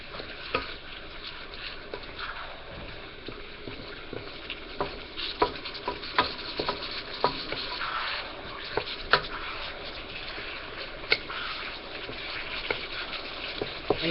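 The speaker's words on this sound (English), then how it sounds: "And then you want to stir it around." Chicken with taco seasoning stirred in a pan, a continuous soft sizzle with scattered spoon scrapes and light taps throughout, close and steady, with no talking.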